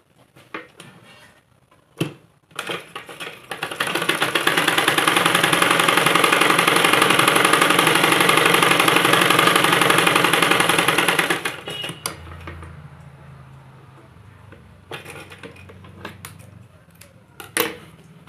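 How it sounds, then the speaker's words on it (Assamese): A sewing machine stitching a blouse runs in one loud, steady, fast mechanical whirr for about eight seconds, then stops. Scattered clicks and handling knocks come before and after. "আকৌ এটা চিলাই মাৰিব"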